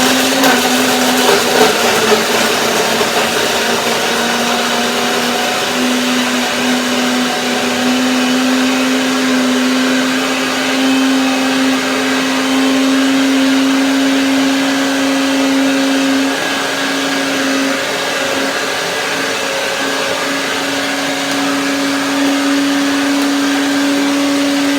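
A kitchen blender runs steadily, a loud continuous whirring drone with no break as it purees strawberries, cashews, dates and lemon into a pie filling.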